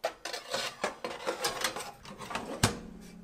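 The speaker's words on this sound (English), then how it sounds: "Leave the rack on the bottom and put the baking sheet on top." A metal baking sheet set onto the rack of a Ninja Foodi Digital Fry oven, giving a run of close metallic clatters and clinks with one sharper knock near the end, no voices.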